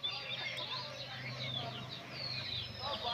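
Native chickens on a small poultry farm in Barisal, kept alongside quail, chicks, pigeons and ducks, clucking and chirping steadily throughout at moderate distance with a low hum underneath.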